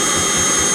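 A Milwaukee compact vacuum runs with a loud, steady, high-pitched rushing whine, close by and uninterrupted for the whole brief moment.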